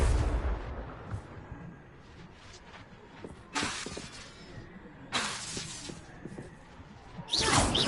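Spell explosions in Hogwarts Legacy, a Confringo fireball burst: several loud hissing, crackling blasts at intervals over a low ambient game background.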